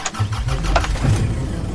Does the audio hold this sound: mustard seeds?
no